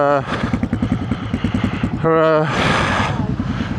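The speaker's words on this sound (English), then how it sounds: "just adjusting the idle on it" A Yamaha XT600 motorcycle idles close up during idle adjustment, a rapid, steady thumping engine rhythm with a speaking voice partly over it.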